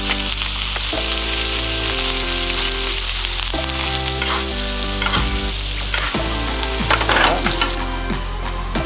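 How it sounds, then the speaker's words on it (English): Butter and a couple of garlic cloves sizzle loudly in a hot pan beside a steak: a dense, continuous frying hiss, close and strong throughout, with a few shifts as the pan or meat moves and no voices. "A good amount of butter in there. A couple cloves of garlic."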